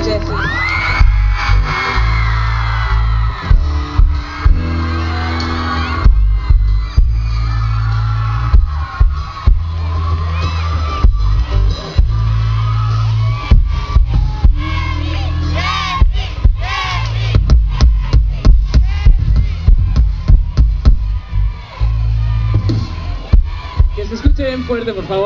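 A concert crowd in Ciudad Obregón, Sonora, applauds, whoops and cheers loudly for a performer. Dense rhythmic clapping and shouts swell throughout, with a voice calling out over the noise.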